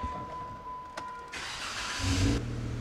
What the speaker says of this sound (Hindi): तो चलें ज़रा गाड़ी को स्टार्ट भी कर लेते हैं हम जल्दी से